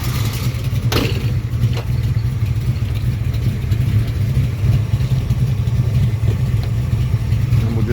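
A 1971 Ford XY GT Falcon replica idles close up, a loud, steady, deep engine rumble that holds evenly throughout with a couple of brief clicks and no talking.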